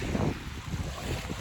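Wind buffets the microphone as choppy waves slosh against a paddled boat on turbulent water, a continuous rough rumble with no voices.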